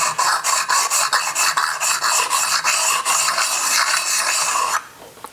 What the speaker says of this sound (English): Now we're going to rub this along the back here just to break the burr.